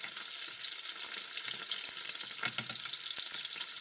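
Asparagus sizzles and fries in a hot pan as it browns, a steady crackling hiss broken by a few sharper pops and stirring scrapes, close and fairly quiet, with no talking.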